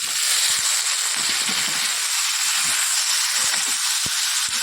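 Loud, steady sizzling hiss rises as greens go into a hot pan with shrimp, a continuous steamy crackle with small spits and pops underneath.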